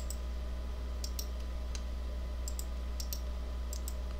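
Computer mouse clicks come in sharp, light pairs and singles, scattered irregularly over a steady low electrical hum, close but faint.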